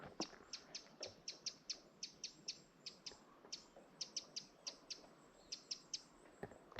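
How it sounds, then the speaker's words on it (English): Birds chirp in a steady run of short, bright repeated calls, about two or three per second, fairly close against a quiet outdoor background. "So even the birds are ranting and raving about the place"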